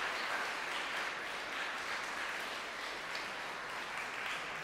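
An audience applauds at a music college concert, a steady, even wash of many hands clapping from a large hall, continuing without a break for several seconds.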